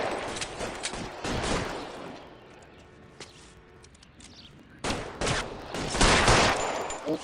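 Gunfire in an L.A. Noire shootout comes in loud bursts of rapid shots, easing to a quieter stretch with a few isolated cracks before a heavier volley resumes.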